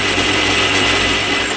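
A very small pillar drill boring through a workpiece, a steady loud motor whine with a low hum, continuous and close, with no talk.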